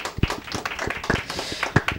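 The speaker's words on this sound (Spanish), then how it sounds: "Un aplauso para las magas del reciclaje Marilyn y Arely." A small audience claps at a school presentation, with scattered, uneven hand claps close by rather than a dense wash, a few sharper individual slaps standing out over a brief span.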